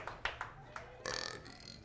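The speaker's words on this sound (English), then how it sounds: "You got the biggest belch." A loud belch bursts out in a belching contest amid an audience's scattered claps and cheering, with people talking around it.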